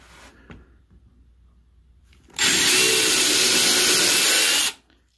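After a quiet moment, a power drill whirs loudly into a scroll-sawn wooden Christmas decoration for about two seconds, then winds down.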